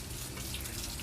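Tap water running steadily from a faucet into a hand or sink while a cleansing balm is being emulsified, a continuous broadband splashing hiss at close range with no talking.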